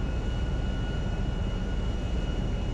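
Airliner jet engines in GTA 5 with a Boeing 727 mod give a steady, even roar with a faint high whine, unbroken and without talk.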